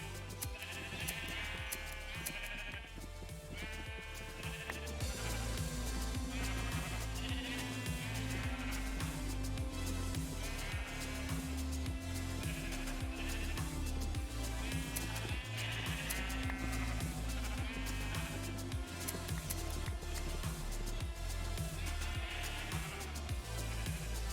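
Sheep in the Minecraft video game bleat repeatedly at a farm, the short bleats sitting low over continuous background game music at a quiet, even level.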